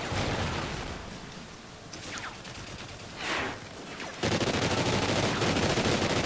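The Viper gun fires in Call of Duty Ghosts, rapid automatic bursts amid loud battle noise that intensifies sharply near the end into continuous gunfire.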